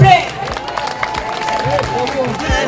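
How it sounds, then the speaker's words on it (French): A crowd claps and cheers at a school end-of-year party, with steady applause under a babble of voices. "On l'applaudit s'il vous plaît."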